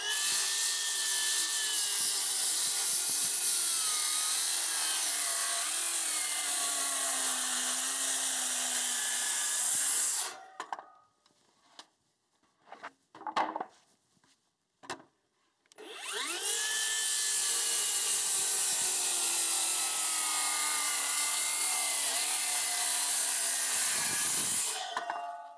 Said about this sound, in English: Then I will finish off my cuts with the jigsaw.